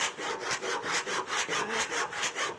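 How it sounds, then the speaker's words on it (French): A handsaw cuts through wood in quick, steady back-and-forth strokes, a dozen or so rasping passes close by with no other sound. "Je vais le faire à la main, pas à la circulaire, pour que le trait de scie soit le plus fin possible."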